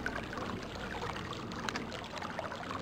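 Steady flowing water from the game Myst's Selenitic Age, a continuous trickling, pouring wash heard alone at moderate distance with no voices.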